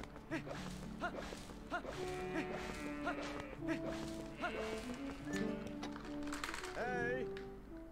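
Goats lowing and bleating during the goat-herding stretch of Twilight Princess HD, mixed with hoofbeats and set against steady in-game music that runs the whole time.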